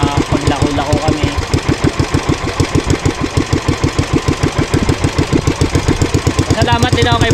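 A repaired engine on a Philippine bangka outrigger boat runs close and loud, thumping in a fast, even rhythmic pulse for the whole stretch.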